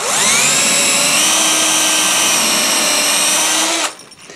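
A power drill with a wood bit bores into end grain wood. A steady, loud high whine with a constant pitch runs for nearly four seconds, then cuts off abruptly and leaves a faint residual hum.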